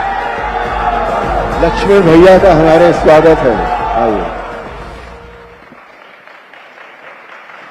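A crowd cheers and applauds to welcome actor Sunil Lahiri at an Ayodhya event, a loud swell of clapping and shouts under an announcer's amplified voice that fades after a few seconds.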